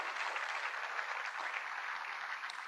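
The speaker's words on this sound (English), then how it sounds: "please give them a good applause" Steady applause from an AI summit audience thanking a business transformation panel, a dense wash of many hands clapping evenly throughout at moderate loudness with no voices over it.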